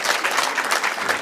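A crowd of guests at a Rwandan wedding ceremony bursts into brisk, close applause, a thick continuous patter of many hands clapping without pause.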